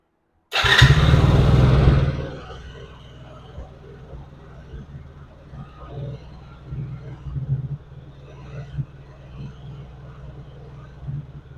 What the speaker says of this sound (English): Turn the power on, and brake is on, and see if it'll start.